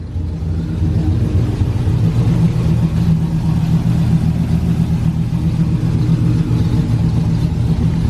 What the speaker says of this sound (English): It's got a hell of an exhaust leak